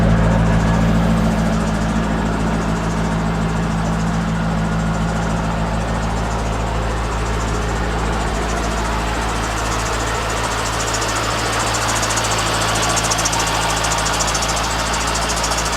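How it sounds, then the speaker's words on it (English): Stock exhaust on a C5 Corvette grumbles at idle, a deep continuous burble with steady low hum, close and unbroken for the full length, no talking. "Even though it's a stock exhaust, it has a nice grumble to it for sure."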